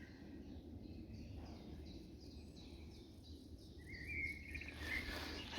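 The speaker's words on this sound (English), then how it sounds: "I just had to stop so you guys could hear all the grasshoppers and crickets" Faint, rapid chirping of crickets and grasshoppers pulses steadily in a quiet outdoor setting, with soft background hiss.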